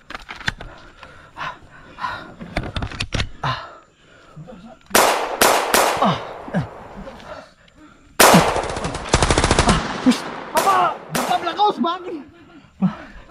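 Video game gunfire rattles in rapid automatic bursts and scattered single shots, loud and close, with voices talking excitedly between and over the volleys.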